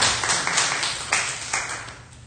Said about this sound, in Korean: 우리 오늘 목사님 감사의 박수를 한번 보내면 좋겠습니다